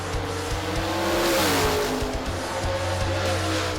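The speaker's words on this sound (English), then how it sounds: "In Top Sportsman, series leader Steve Fowler took on Andrew Constantino in the Mustang" Loud roaring engines of drag racing cars, including a Ford Mustang in Top Sportsman, launching down a dragstrip with a rising rev and tire squeal, sustained and close.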